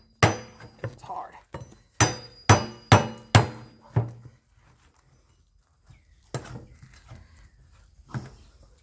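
An old, hard coconut being struck with a hammer, a run of sharp, loud whacks in quick succession, a pause, then a few lighter blows, close up.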